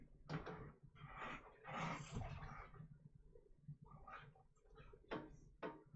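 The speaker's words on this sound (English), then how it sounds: "That would be my puppy playing in the background." A puppy plays nearby indoors, giving off a string of short scuffles, snuffling bursts and small growl-like noises in irregular spurts, fairly close and moderately loud.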